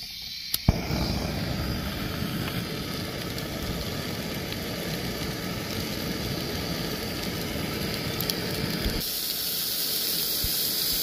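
Steak dropped into a hot one-pan skillet for spicy beef fried rice, a sudden loud sizzle rising into a steady, dense hiss that continues throughout.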